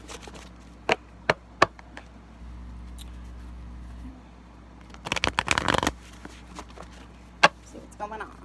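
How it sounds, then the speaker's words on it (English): Tarot cards of the Right Away Tarot deck being shuffled, with a dense burst of riffling around the middle and a few sharp isolated card snaps before and after, close and fairly quiet. "I'm going to be using the Right Away Tarot deck cards today"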